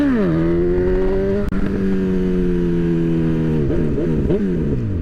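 A motorcycle rider holding about 20 to 25 miles an hour opens the throttle for a wheelie, the engine droning loud and close with rising pitch, then several quick revving surges at the end.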